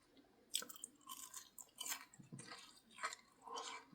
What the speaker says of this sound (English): Again, the chips had no salt on, so they were a bit bland, but they were crunchy.